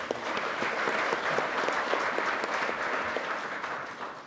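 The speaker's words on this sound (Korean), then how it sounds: "다시 한번 박수 한번 부탁드리겠습니다" An audience at a Korean National Assembly policy forum on firefighters applauds a presenting professor, with a steady, dense clapping from many hands that lasts the whole stretch at an even level and no speech over it.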